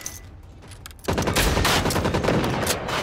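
Rapid burst of automatic gunfire from a gun with heavy recoil in the video game Generation Zero, starting abruptly after a quiet second and continuing loud and dense to the end.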